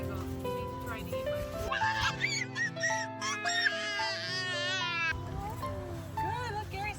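A seagull at the beach gives repeated high, mewing cries, close and fairly loud, mixed in with children's and adults' chatter throughout.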